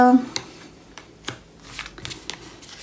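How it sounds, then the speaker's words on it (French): Tarot cards spread out across a table, a few soft slides and light taps of cards close by, quiet and intermittent. "on étale les cartes"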